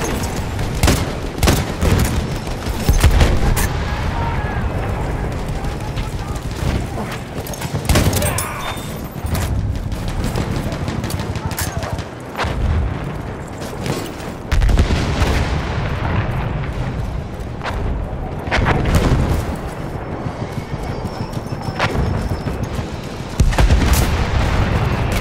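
Battlefield 1 battle on the Amiens map with grenade explosions and gunfire: repeated heavy booms and rapid shots in dense bursts, loud and continuous for the whole stretch.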